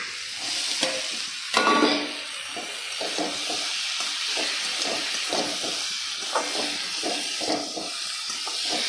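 Cauliflower florets sizzle and hiss in hot oil in a home kitchen pan, a steady frying crackle broken by repeated stirring scrapes and a louder sputter when they first hit the oil.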